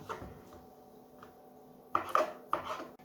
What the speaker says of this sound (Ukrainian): Тепер нарізаю м'ясо. Так само буду нарізати соломкою.